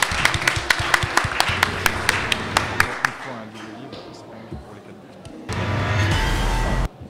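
Audience at a Japan convention talk applauding, with distinct claps in a quick run that thins out after a few seconds, followed by voices and a louder rumbling noise.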